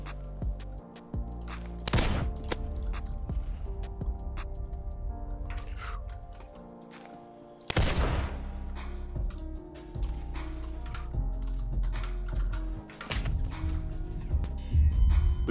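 A Desert Eagle pistol fires in the Roblox game Criminality: two sharp, loud gunshots about six seconds apart, with faint game ticks and clatter between them.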